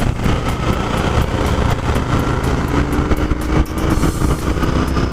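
A Royal Enfield Continental GT 650 cafe racer's 650cc twin engine revs steadily under throttle, a loud continuous drone close by with a faint rise in pitch and no talking.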